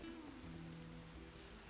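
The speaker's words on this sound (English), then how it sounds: "This is going to make it piss and rain." Steady rain falls in the Stranger of Paradise Final Fantasy Origin video game, a faint continuous hiss of drops on surfaces with a low hum beneath and no voices.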